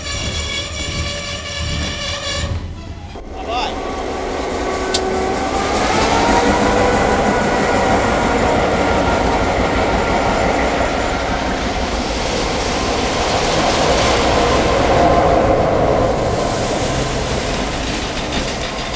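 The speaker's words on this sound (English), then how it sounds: "And here comes 6029 to join the train." Steam locomotive 6029 approaching to couple onto a waiting passenger train, a continuous loud rolling rumble with clanking and faint wheel squeal building up close, no voices.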